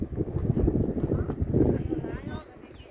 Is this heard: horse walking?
yes